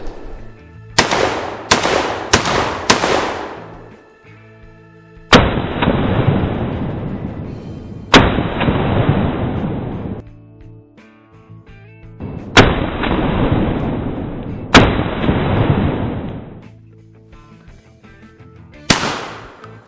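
CZ 712 Practical semi-automatic shotgun firing 1 1/8 ounce Remington high-speed steel loads at clay targets outdoors, four quick loud reports in a rapid string followed by widely spaced single booming shots with short decays.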